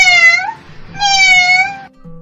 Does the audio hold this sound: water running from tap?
no